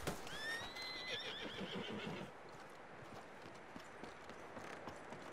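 A horse in Red Dead Redemption 2 Online neighs with a rising, drawn-out whinny over clopping hooves, then the hoofbeats carry on more quietly alone.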